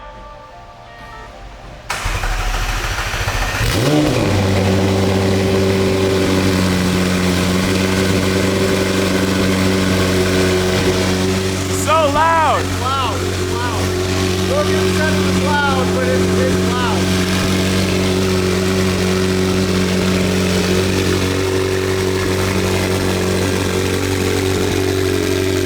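A McLaren 720S GT3 race car engine starts and then idles loudly and steadily, a deep throbbing roar with a brief rev partway through, close and alone.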